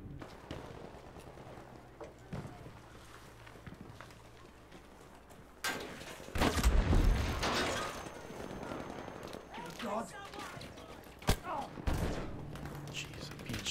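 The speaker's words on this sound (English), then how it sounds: "Jeez, I'm being shot from everywhere." Scattered gunfire crackles through a Battlefield V battle, with a louder burst of shots and impacts midway among tanks, heard fairly quietly beneath a player's exclaimed talk.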